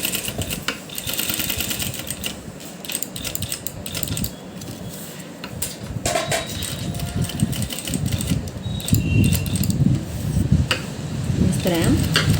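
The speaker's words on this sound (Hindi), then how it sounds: "इसके किनारे किनारे पर सिलाई लगाते हुए" A sewing machine stitches along the edge of a V-cut neckline, a rapid mechanical whirring and clatter in uneven bursts up close, with a person talking over it.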